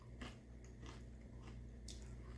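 Crunchy spicy soy-coated vegan snacks being bitten and chewed up close, a few crisp crunches spaced irregularly over a faint steady hum, with no talking.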